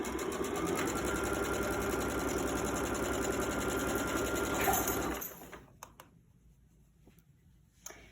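A sewing machine stitches a quilt panel with steady, rapid mechanical chatter for about five seconds, then stops for the back stitch, leaving quiet handling sounds.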